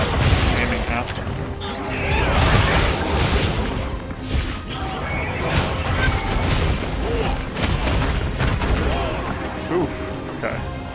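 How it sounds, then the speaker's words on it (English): Explosions in the video game Monster Hunter Wilds go off in a dense, loud barrage of booms and crashes mixed with clanking battle noise, while a voice talks through the action. "Did not do a good job of avoiding the explosions there."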